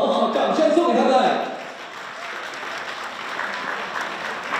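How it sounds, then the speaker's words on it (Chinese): An audience applauds five couples married fifty years at a 2019 Kunpeng Finance New Year gala, loud dense clapping that fades after a second or so into softer scattered clapping and crowd murmur. "掌声送给他们"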